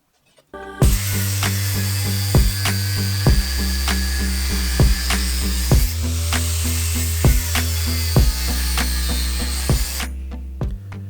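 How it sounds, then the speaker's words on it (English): Non-woven abrasive disc on a grinder cleaning mill scale off 4mm steel plate for a mid-engine Audi 20v Rover Metro build, a loud steady high whine with rhythmic dips and bumps every second or so as the disc bites and lifts. "This non-woven abrasive disc is excellent at removing meal scale and cleaning surfaces prior to welding"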